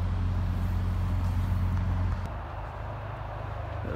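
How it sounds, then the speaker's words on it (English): Cars passing on a street: a steady close engine and tyre rumble that eases as one vehicle moves away, then a lighter wash of traffic continues. "See cars passing, you can hear them passing."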